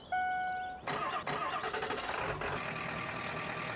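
New Holland H8060 tractor diesel engine starting in Farming Simulator 17: a short cranking whine, then the engine catches and settles into a steady, moderately loud idle, heard alone.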